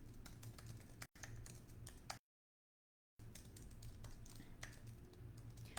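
Computer keyboard typing in a quiet room, a steady patter of soft clicks with a brief silent gap partway through.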